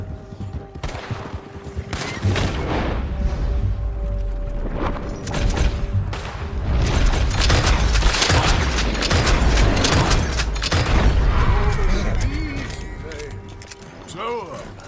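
Gunshots in the Western video game Red Dead Redemption, a sharp volley of rifle and pistol fire with booms and mechanical clatter, building into dense overlapping shots, with a voice speaking between them.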